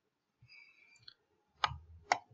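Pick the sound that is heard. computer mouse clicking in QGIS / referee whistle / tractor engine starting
computer mouse clicking in QGIS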